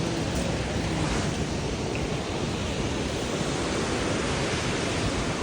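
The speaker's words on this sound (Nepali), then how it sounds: "रुप्से झरना" Rupse waterfall in Upper Mustang, Nepal, gives a continuous, dense roar of rushing water, steady and loud without pauses or voices.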